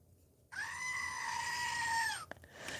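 A single goat bleat played as a sound effect during a live tarot reading: one loud, drawn-out, wavering cry lasting nearly two seconds, followed by a sharp click.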